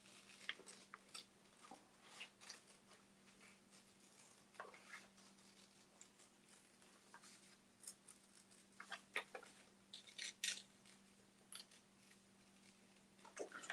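Scissors cut out a fabric sole for a baby shoe. Quiet, irregular snips and clicks come in uneven bursts over a steady low hum, close but faint.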